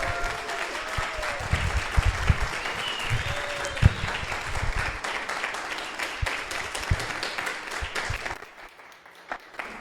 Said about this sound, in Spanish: el maestro Armando Arcos, un fuerte aplauso.